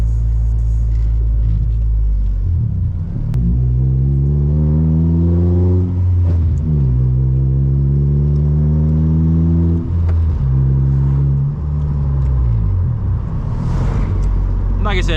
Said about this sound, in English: I just love the way this car drives.